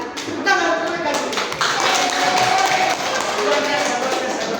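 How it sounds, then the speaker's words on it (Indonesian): Students in a classroom applauding a presenting group, a brisk burst of clapping close by, with children's voices talking and calling out over it throughout. "tepuk tangan untuk mereka dulu"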